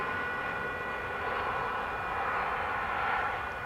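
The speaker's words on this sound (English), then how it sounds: "here's the flight arriving from Lima" Airplane arriving at DFW Airport on a flight from Lima, a steady distant jet engine roar with a faint whine, holding at a constant level without voices.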